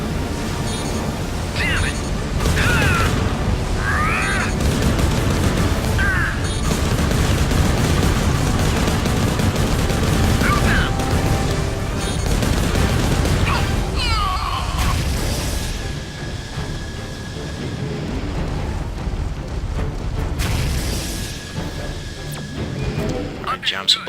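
Gundam mobile suit gunfire in a Mobile Suit Gundam game, a dense continuous stream of bullets and booms over a battle din, with voices talking throughout.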